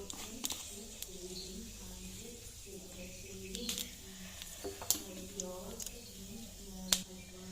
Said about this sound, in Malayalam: കടുക് പൊടിയിട്ടുണ്ട്